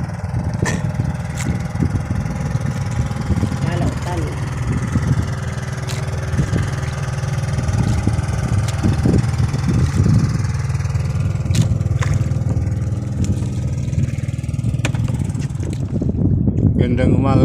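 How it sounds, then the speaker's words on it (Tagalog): Motorboat engines drone loudly and continuously for a long stretch at sea, a rough low rumble swelling and fading as they pass, with faint voices now and then. "Ang dami ng motor na nagdadaanan."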